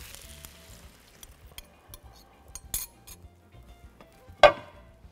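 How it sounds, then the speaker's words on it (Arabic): Metal utensil scraping and clinking in a pan of chicken pieces over faint sizzling, with scattered taps and one sharp clang near the end. "اوكي هسه بخلطهم مع بعض"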